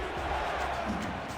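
Loud crowd noise swells and roars in a football video game during a tense third-down play between Dallas and Houston, a steady dense wash of cheering with no clear breaks.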